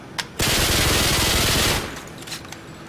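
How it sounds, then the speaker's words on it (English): Dual-wielded pistols in a video game emptying in one continuous rapid-fire burst of about a second and a half, loud and close, with quieter game sounds before and after. "You can unload both dual wielding pistol clips with rapid fire on just with one pull of the trigger"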